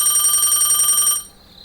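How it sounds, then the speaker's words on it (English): A home telephone rings with a steady electronic trill, close and clear, sounding continuously for over a second before cutting off abruptly into near silence. "You hear the phone ring."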